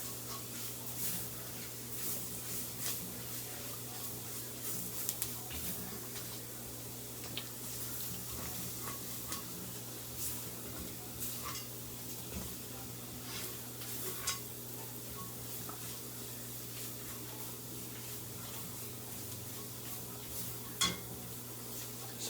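Flour roux being stirred in a pot while cooking off for broccoli cheddar soup, giving soft continuous scraping and faint sizzling over a steady low stove hum, with occasional light clinks of the utensil against the pot.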